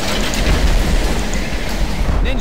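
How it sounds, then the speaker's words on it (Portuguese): A rainstorm with thunder in the video game Left 4 Dead 2: a dense, continuous wash of rain with a low rumble underneath, steady and fairly loud throughout. "Tá uma chuva da porra no jogo."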